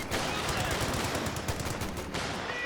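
M1919 machine gun fire in the World War II strategy game Company of Heroes 2, a dense, continuous rattle of rapid automatic bursts mixed with other battle noise, loud and unbroken.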